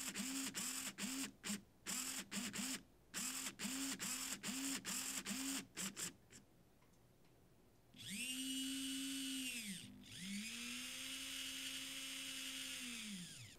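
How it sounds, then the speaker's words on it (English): Hobby servo motors driven by a Pololu Mini Maestro controller whir in short repeated bursts with clicks, then give two longer sustained whining sweeps whose pitch rises and falls, heard up close. "you can use the sliders to move your servos"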